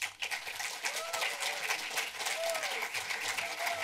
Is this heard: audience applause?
yes